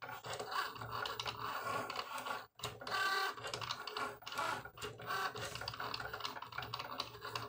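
A small vinyl cutting machine cutting out a design for a t-shirt, giving off busy mechanical whirring and rapid clicking movements that continue steadily close by, with one brief pause partway through.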